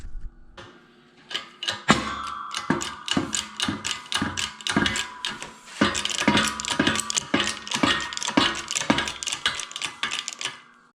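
A ratchet wrench cranks down a press seating a bushing in a rear brake assembly, its pawl clicking in a long run of quick, close bursts with brief pauses between strokes.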